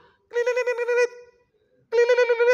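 A basic phone without internet rings in two loud, close bursts of warbling electronic tone, separated by a short silence.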